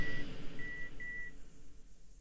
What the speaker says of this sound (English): The hum is gone, replaced by a low, steady beep.